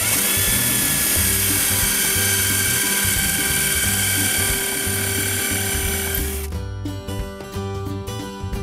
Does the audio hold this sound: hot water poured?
no